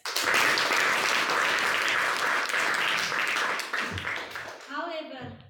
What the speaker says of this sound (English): Let us give a big round of applause for all the assignees and speakers.